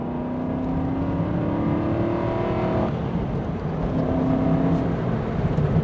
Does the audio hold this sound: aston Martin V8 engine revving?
yes